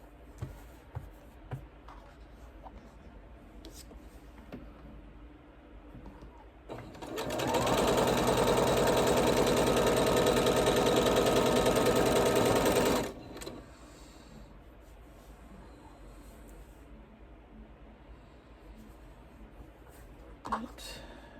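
A sewing machine stitches a quilt block for a Norfolk Fleur Noire block of the month, running as one loud steady whir for about six seconds amid quieter room noise and small handling clicks.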